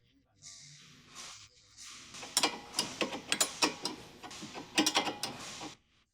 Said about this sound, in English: Simply tighten with the wrench.